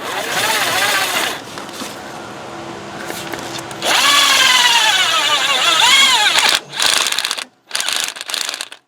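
A power drill drives a self-tapping screw into the cam plug of a 1998 Toyota Camry, whirring loudly and close in several bursts that rise in pitch as the motor speeds up, separated by short pauses and stopping abruptly near the end.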